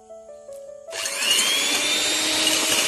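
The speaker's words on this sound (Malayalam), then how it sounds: "ഇനി നമുക്ക് നല്ലോണം ബീറ്റ് ചെയ്തെടുക്കാം." An electric hand mixer starts up after a moment of quiet and beats five eggs for a pineapple cake batter, giving a loud, steady whirring buzz close by.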